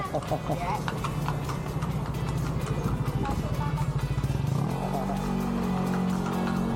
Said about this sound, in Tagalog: Mabilis ng kabayo